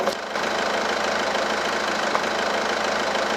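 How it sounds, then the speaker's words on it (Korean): A Kia Grand Carnival minivan engine idles close by, a continuous low rumble with a faint ticking texture and no voices. "엔진 소리 바로 들어보도록 하겠습니다"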